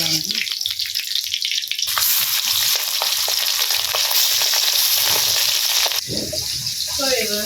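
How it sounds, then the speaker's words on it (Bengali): Cut pieces of fish fry in a pan in a village home kitchen, a loud, dense sizzle that swells for about four seconds and then drops back, with a voice heard briefly near the end. "কাটা মাছ কি সুন্দর ভাজা হয়েছে"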